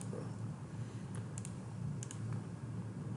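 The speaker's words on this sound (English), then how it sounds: "I like to just type it in like this." Keys tapped on a keyboard to enter a Pythagorean theorem calculation, a few light separate clicks in short bursts over a steady low room hum, fairly quiet and close.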